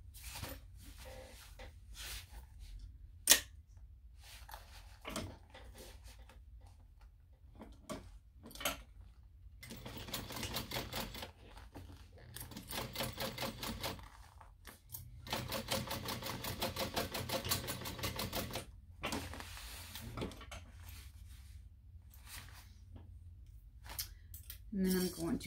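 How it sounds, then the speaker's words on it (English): Sewing machine stitching a straight half-inch seam across the short ends of a small backpack, without the lining, running in bursts of steady mechanical whirring with pauses and a sharp click between runs. "We are going to sew this down a 1/2 inch seam allowance straight across"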